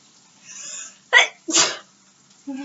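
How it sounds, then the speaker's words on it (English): A person sneezes twice in quick succession, close and sharp, preceded by an indrawn breath, with a brief voice afterward. "Oh, I gotta sneeze."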